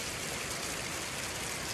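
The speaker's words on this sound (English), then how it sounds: "So the river is flowing like crazy." Fast-flowing Coddy Creek at Creswick rushes in a steady, dense, close wash of water that holds an even level throughout, with no voices.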